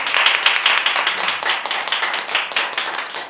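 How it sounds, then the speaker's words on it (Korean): A church congregation claps together in welcome during a Sunday worship service, a dense, steady patter of many hands that stays loud and continuous throughout. "환영하고 힘내시면 박수하겠습니다"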